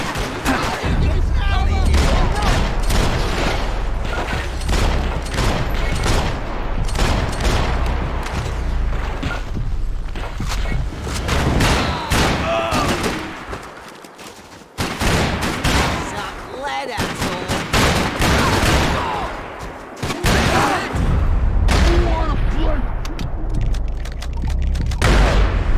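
Rapid video game gunfire bursts, loud and dense, with booming impacts running through most of the stretch under excited shouting voices.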